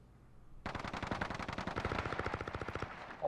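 A gun in a video game fires a fast, steady automatic burst of closely spaced shots, fairly near, starting abruptly and running for a few seconds with no talk over it.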